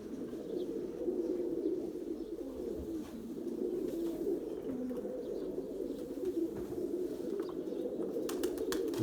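Pigeons in a loft coo softly and repeatedly in a low rolling murmur that runs throughout, close by, with faint rustling and a few light taps near the end.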